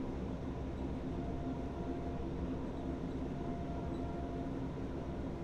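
A train in the Train Sim World 3 simulator rolls steadily along the tracks through a curve near the Hohenzollern Bridge, a continuous low rumble and hum with no talking.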